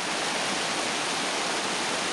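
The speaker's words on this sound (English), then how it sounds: "This is the river that the glaciers and the snow that we saw up at the top of the mountain forms." A glacier-fed mountain river rushes along in a constant, dense roar of flowing water, close and unbroken for the whole stretch with no voices.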